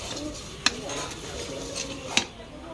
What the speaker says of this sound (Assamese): গোটা মছলাখিনি অকণমান ভাজি ল'ম।